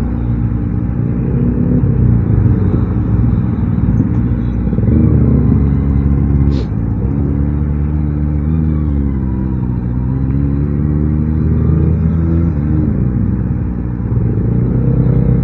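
A Kawasaki Ninja ZX25R motorcycle engine revs loudly and close by, a continuous high-revving drone whose pitch climbs and falls repeatedly over the whole stretch, with no talking.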